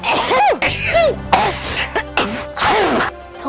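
A person lets out several sneezes in quick succession, each one a sharp, loud burst of breath with a brief vocal edge, heard up close.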